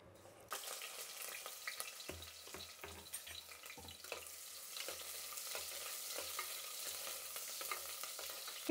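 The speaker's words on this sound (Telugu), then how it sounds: "ఇప్పుడు నూనె వేడెక్కింది ఇప్పుడు ఎర్రగడ్డ వేసుకుందాము" Onion dropped into hot oil and frying while being stirred in a pan, a steady sizzle with scraping stir clicks, close and fairly loud, no talk.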